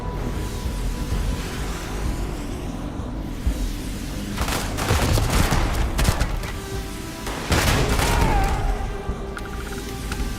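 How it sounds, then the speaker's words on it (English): Enemy gunfire during a fight in Starfield, heard as scattered heavy shots and booms that pick up into loud bursts midway and again near the end, over a constant rumbling background. "What the fuck are they shooting with?"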